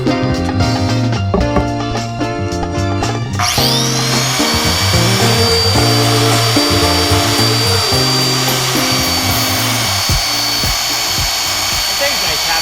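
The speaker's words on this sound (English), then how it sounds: "it ran through this tile, porcelain, hard 1/2 inch porcelain like butter" A compact Beast tile saw cuts through hard half-inch porcelain tile, its motor spinning up after a few seconds into a loud, sustained, high-pitched grinding whine that holds steady to the end.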